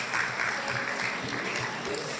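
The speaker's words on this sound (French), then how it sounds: "Des applaudissements pour ce monsieur." A live audience claps in a continuous, steady wash of applause for a director at a leadership talk, sustained for the whole stretch with no pauses.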